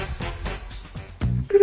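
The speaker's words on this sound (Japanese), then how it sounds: "電話をかけてみたいと思います" A phone number is dialed to place a call, producing a quick run of short, loud keypad tones close up, ending in a higher held beep as the call connects.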